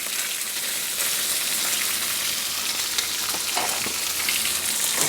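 Unsalted pork frying and rendering down in a hot pan, giving a steady, loud, close crackling sizzle that runs unbroken throughout with no voices.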